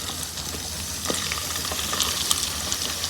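Onions and green chilies frying in ghee after cumin seeds, a steady close sizzle with scattered crackles and light stirring scrapes throughout, no voices.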